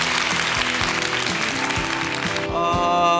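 Quiz show studio audience clapping in encouragement for a contestant who has just been eliminated, a steady broadband patter of many hands with music playing alongside.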